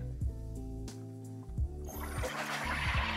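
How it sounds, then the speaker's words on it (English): Homemade carbonated water in a bottle opened all the way, a burst of loud hissing fizz rising after a low rumble and continuing to the end, close and without talk. "That's the sweet, sweet sound of seltzer"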